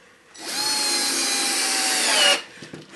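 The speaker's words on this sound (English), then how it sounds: "we'll just drive some screws into the end of this wood" A power drill whirs steadily for about two seconds, close and loud, driving screws into the end of a piece of wood, then stops abruptly.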